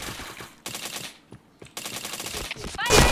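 Bursts of rapid gunfire in a first-person shooter video game, coming in separate volleys with short gaps between them and ending in a loud, harsh blast.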